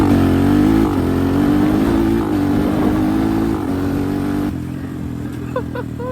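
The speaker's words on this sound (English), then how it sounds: "let me give you guys one more wide open throttle pull here with the button" A Titan 250 motorcycle fitted with a quickshifter on a kill switch makes a loud, close wide-open-throttle pull: a steady engine drone rising through the gears, with a brief cut before the revs drop away near the end.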